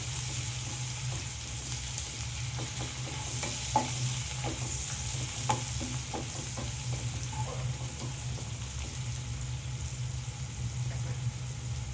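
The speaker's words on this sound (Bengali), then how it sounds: "দিয়ে আমি 2-3 মিনিটের মতো পেঁয়াজটাকে ভালো করে ভেজে নেব" Long sliced onion frying in hot oil and spices for a Bengali rohu fish kalia, a steady soft sizzle throughout with occasional stirring clicks and scrapes, fairly quiet and close.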